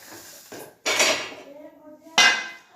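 Dishes, pots and cutlery clatter in a home kitchen as they are washed, with three loud bursts of clanking metal and ceramic and softer rattling between them.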